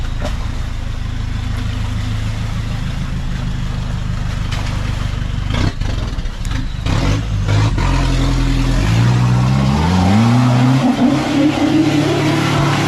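An off-road 4x4 climbs a hill near Khlong Yon in Sadao, Songkhla, its engine droning loud and steady close by, then revving up and rising in pitch toward the end.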